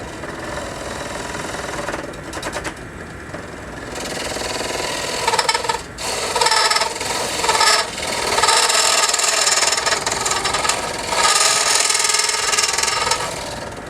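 A snake hollower carves out the inside of a wooden piece spinning on a lathe, a continuous harsh grinding rasp with a steady motor hum underneath, loud and close, with the cutting pressure rising and falling in bursts.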